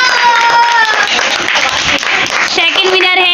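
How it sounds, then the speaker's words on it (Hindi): Audience applause for the first-place winner of a children's Muharram competition, steady clapping mixed with voices and a loudspeaker announcement over a busy crowd. "मरियम के लिए तालियां।"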